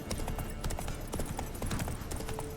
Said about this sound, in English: This is actually where riding a horse feels pretty cool